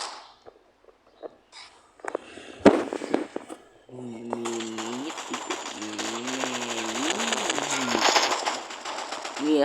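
Rapid bursts of video game gunfire crackle continuously over a droning engine-like hum, after a few scattered clicks and bangs with a voice speaking briefly.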